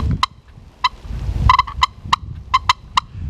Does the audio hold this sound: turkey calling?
yes